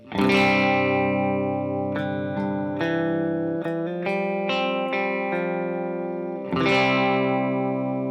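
Electric guitar chords ring out through a reverb effect, a sustained strum followed by a series of picked notes and another strong strum near the end, each tail washing into a soft ambient space, loud and close with no voices.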